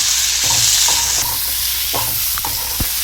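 Tomatoes and dried red chillies fry in a pan for a ground masala, a loud steady sizzle with repeated scraping stirs of a spatula close up, no talk.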